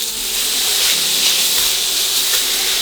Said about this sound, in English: let's go ahead and drop our sausage into our pan. And we're just gonna cook this until it browns.